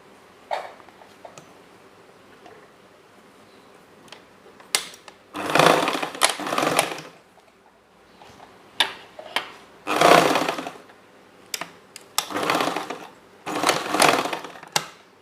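A sewing machine topstitches a blouse hem in several short bursts of fast whirring, each a second or so long, separated by quiet gaps with small handling clicks and knocks.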